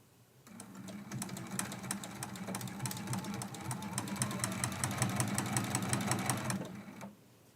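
A sewing machine back stitching quilt binding to the edge of the quilt runs in one continuous fast rattling burst of needle strokes, starting up and stopping cleanly after about six and a half seconds, nearby and alone.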